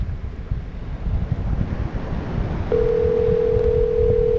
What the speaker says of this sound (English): Sounds like this is ringing forever.